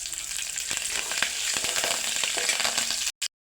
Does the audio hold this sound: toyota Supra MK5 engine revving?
no